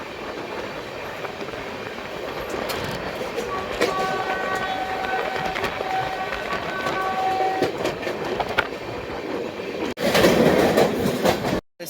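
Howrah Intercity Express runs on the Malda to Kolkata line with a continuous rumbling roll and rhythmic wheel clatter, a sustained horn tone sounding midway, and a louder rushing passage near the end.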